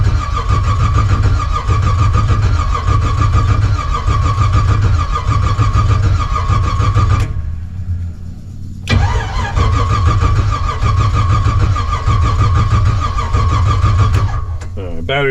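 A 1956 Chevy gasser engine cranks over and over with a steady, loud, droning churn, pausing briefly midway before cranking resumes, with voices talking over it.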